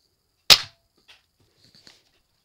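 A Nerf Zombie Strike Crossfire toy blaster fires once, a sharp, loud close snap that decays quickly, followed by faint plastic clicks and handling noises.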